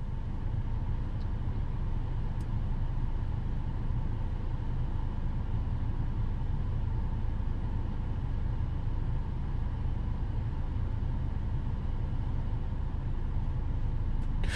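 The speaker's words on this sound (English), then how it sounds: "We're going to go ahead and just slowly drive down as if we were looking for a spot to park." A MINI rolls slowly along while searching for a parking space, a steady low interior rumble of engine and road noise holding constant and moderately loud throughout, with no talking.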